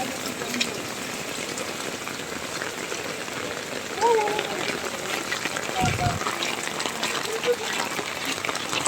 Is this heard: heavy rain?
yes